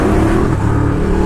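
A Ducati Diavel cruiser motorcycle's engine roars out of a tunnel, a loud, close, continuous low rumble with no pauses.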